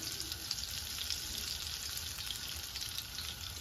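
Steady crackling sizzle of butter in a hot pan, a dense continuous hiss with tiny pops, no voices.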